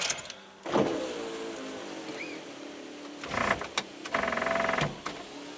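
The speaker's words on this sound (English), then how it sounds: "I think we'll go ahead and roll the windows up" A car's power windows being rolled up, with several short motor whirs separated by pauses, fairly quiet and close, with no talking.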